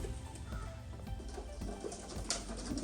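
Racing pigeons coo softly in a loft before a one-loft race, low murmuring calls repeating under a steady background hum, faint and close, with no talking.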